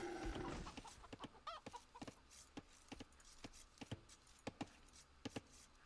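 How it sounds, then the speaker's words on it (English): Chickens in Age of Empires II cluck in short, separate bursts, about a dozen quick clucks spread over steady game ambience, with a brief warbling call near the start. "These chickens are in an unfortunate position."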